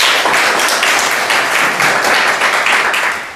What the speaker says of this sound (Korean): 큰 박수로 맞아주시면 고맙겠습니다